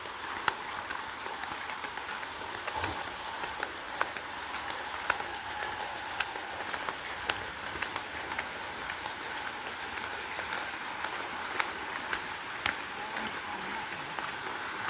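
Rain falling steadily, a soft, even patter with scattered sharper drips, quiet and with no one talking.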